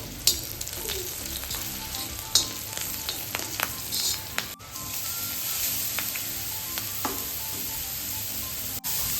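Chili and garlic sauté in hot oil for radish bhaji, with a steady, close sizzle and scattered sharp clicks of stirring throughout, and no voices.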